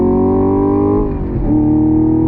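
A 2022 Chevy Camaro SS 1LE engine revs steadily on throttle with a rising, smooth tone, briefly dipping as the driver shifts, then pulling again loudly and continuously.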